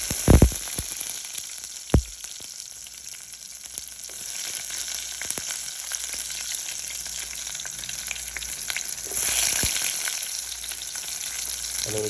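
Garlic hitting hot cooking oil in a pan, a steady close sizzle with occasional sharp crackles and a couple of clanks of utensil on the pan, no voices over it.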